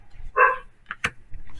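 Dogs bark at home after attacking a cat, a single sharp bark followed by a few shorter yips, fairly close, with some faint background sounds.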